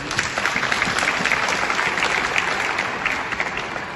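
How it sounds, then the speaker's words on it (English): An audience at an entrepreneurs' event gives a steady, dense round of applause for the town of Swakopmund, many hands clapping evenly throughout. "let's give Swakopmund a round of applause"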